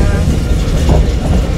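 An electric heritage train rolls along rails in Warsaw, a dense, loud rumbling clatter heard close up from on board, with a voice faintly present.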